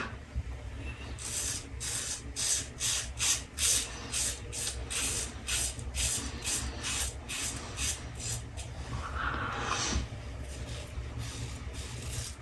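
A razor shaves beard stubble on the neck in a rapid series of short, crisp scraping strokes, close and fairly quiet, repeating in a steady rhythm before easing off near the end.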